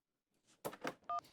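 A telephone being dialed to call someone, heard as a short electronic beep tone after a few soft clicks and rustles, fairly faint and brief with no talking.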